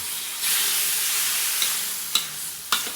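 Squid dropped into sautéed aromatics for adobo, a sudden loud hiss of frying that holds steady, broken by a couple of sharp spatula taps near the end, close and with no voice.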